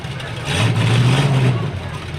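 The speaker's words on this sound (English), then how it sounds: "Oh, I tell you what, it's noisy, isn't it? Yes, it is. That engine's been hopped up. It can hardly run it an idle." A parade vehicle with a hopped-up engine idles roughly, a loud, low, uneven rumble that swells briefly in the middle and then settles back.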